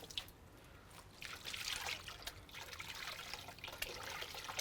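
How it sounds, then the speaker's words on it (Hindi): Hands are washed under running water in a kitchen while pakoras are being made, producing quiet, uneven trickling and splashing with small drips that swell and fade. "हाथ धो लेते हैं"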